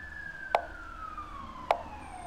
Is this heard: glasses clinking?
no